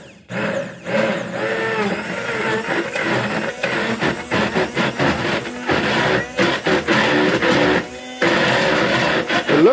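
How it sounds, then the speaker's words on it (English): Stick blender whirs through powdered eggs and milk, a loud, close mechanical buzz that surges and drops in uneven bursts with brief stops, no talking over it. "I'm going to go ahead and scramble these up with my stick blender"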